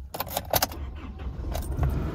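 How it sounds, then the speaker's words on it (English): Keys jangle close by, then a 2018 Isuzu D-Max SX Hi-Ride turns over and its engine settles into a low idle. "I'll just turn the vehicle on as well."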